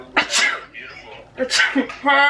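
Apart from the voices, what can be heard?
sneeze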